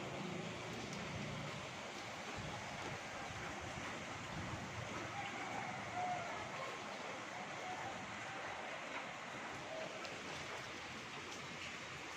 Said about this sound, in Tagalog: Ayan po sa kabila, sa likod ng bahay namin, ilog. Ang lakas ng agos.